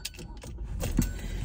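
Car keys jangling inside a parked car, a short metallic rattle with a few bright bursts of clinking, fairly close, over a low background rumble.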